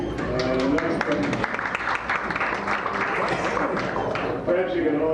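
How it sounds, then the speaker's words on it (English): Applause from an audience at an annual council dinner during an award reading: a dense, steady roll of clapping hands fills the room throughout, with speech briefly heard at the start and end. "Perhaps you can hold your applause until the end so we can keep this moving"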